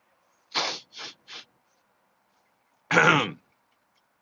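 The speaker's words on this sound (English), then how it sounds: "Clearing my throat." Three short throat-clearing rasps in quick succession from someone getting over a cold, a brief pause, then one longer, harsher clearing of the throat, close to the microphone in a quiet room.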